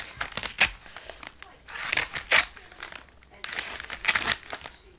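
Crinkling and tearing of wrapping as a package is opened, in several bursts, with people talking over it.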